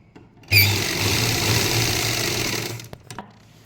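An electric sewing machine stitches a lined salwar in a short, steady whirring run of rapid needle strokes that starts abruptly and stops after about two seconds, followed by a few faint clicks.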